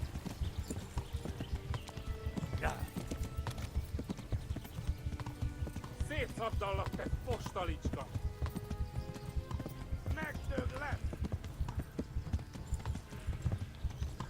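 A horse gallops in the medieval video game Kingdom Come: Deliverance, with quick, steady hoofbeats throughout, a few snorts and whinnies, and someone talking over it.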